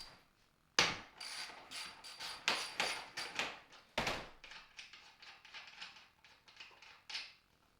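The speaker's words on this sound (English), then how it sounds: "You literally just unbolt it with the 14 millimeter, then just pull the harness out." A 14 mm ratchet rapidly clicks while unbolting the seatbelt receptacle from a Subaru STI, with loud bursts of ratcheting strokes and metallic mechanism noise close by.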